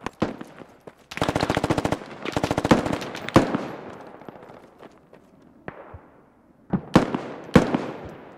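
Machine gun fire in the military shooter Squad: two rapid, loud bursts early on, then single sharp cracks and distant echoing shots with fading tails.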